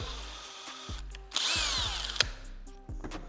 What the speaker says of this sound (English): Carefully holding it, I'll be drilling through it.